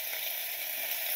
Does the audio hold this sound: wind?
no